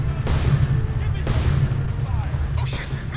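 Rifle fire in the Homefront video game, sharp gunshots at roughly one-second intervals over a heavy, constant low rumble of battle, with voices talking throughout.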